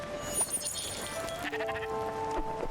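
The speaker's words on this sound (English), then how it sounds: "the sheep need shearing" Sheep bleat in Spiritfarer, a video game: several wavering, tonal cries come one after another at moderate volume, with no talking over them.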